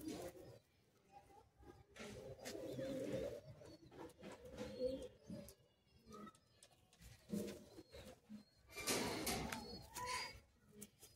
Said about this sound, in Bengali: এবার দেখুন এটাও নর পায়রা আছে একটা, সেম গোলা লাইনের পায়রা